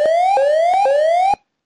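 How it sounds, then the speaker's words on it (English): A critical-ticket alert on a ConnectWise dashboard sounds as a loud electronic siren-like tone. It sweeps upward in pitch three times in quick repeating cycles, then cuts off abruptly into silence. "That event triggered both that audible alarm that you just heard"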